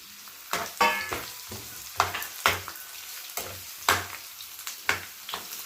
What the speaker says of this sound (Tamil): வெங்காயம் போட்டு அதை வசக்கிக்கலாம்